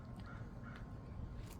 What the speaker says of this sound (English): I think a bird just flew over.